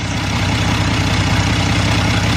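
A Chevrolet S10 Blazer with a 2.8 V6 idles roughly, a loud, steady low rumble with an uneven, lumpy pulse from the engine, recorded close and with no talking.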